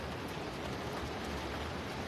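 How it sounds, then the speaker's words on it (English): Rain falling outside at night in New York City, a steady, soft, even patter with no other distinct sounds. "It's raining."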